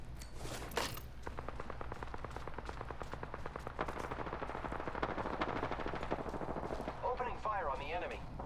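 Rapid automatic gunfire in the shooter game Apex Legends, a long sustained burst of close, loud, evenly spaced shots, followed by softer game effects and a brief burst of in-game character voice.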